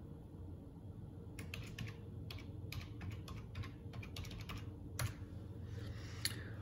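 Keys tapped on a keyboard to enter a password, a quiet, close run of quick irregular clicks with short pauses and one firmer keystroke near the end.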